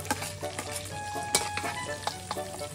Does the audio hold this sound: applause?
no